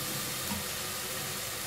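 Mashed turnip going into a pan of frying spinach, a loud, steady sizzle with hissing steam throughout.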